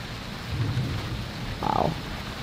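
Low rumbling thunder with steady rain during a severe thunderstorm, a distant roll swelling briefly in the middle over a constant wash of rainfall, no voices.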